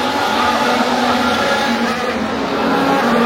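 Formula 1 cars racing through the streets of Monaco during the Grand Prix, a dense continuous engine roar with crowd ambience, loud and steady for a few seconds.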